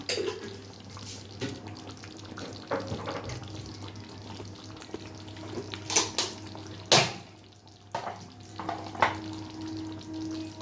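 Curry for chhana potoler dorma being stirred in a pan, a soft low sizzle with several sharp scraping and clinking stirs of the spoon against the pan, fairly quiet and close.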